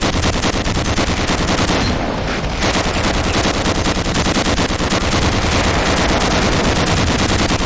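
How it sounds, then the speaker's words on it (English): An overheating mecha gun in Gunman Chronicles fires uncontrollably, a loud, relentless stream of rapid automatic shots with barely a break throughout. "overheating it will cause it to fire uncontrollably"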